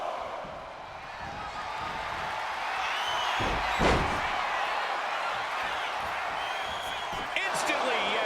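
A sharp knee strike lands in a wrestling video game, a single heavy thud near the middle cutting through steady crowd roar, with a lighter hit later and commentary running over it.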